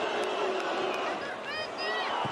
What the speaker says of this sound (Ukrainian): Я зараз помовчу просто от шум стадіону.